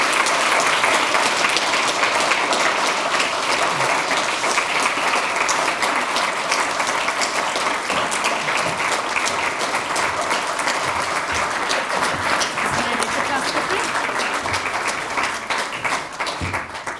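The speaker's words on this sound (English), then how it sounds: "So please give them a round of applause" An audience bursts into sustained applause to welcome authors onto the stage at a science book event, loud and dense clapping that continues steadily for many seconds before tapering slightly.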